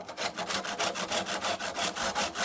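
Abrasive strokes rub lightly back and forth along the wooden edges of an Epiphone EJ-200 acoustic guitar, a quick, even, rasping rhythm of about five strokes per second, close up and steady.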